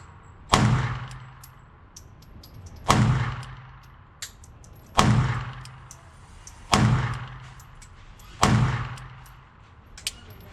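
Five sharp gunshots from a Glock 42 .380 ACP pistol fired at a range, each a loud crack with a short decaying echo, spaced roughly two seconds apart with no talking.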